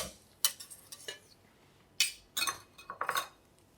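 Spoon scraping and clinking in a bowl while stirring the cream filling for an apple tart, a few quick bursts of metallic taps, close and fairly quiet with pauses between.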